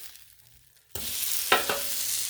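Pork loin bursts into loud sizzling on a Blackstone griddle right after being flipped, a sudden hissing frying that follows a quiet moment and includes a couple of brief scraping clicks.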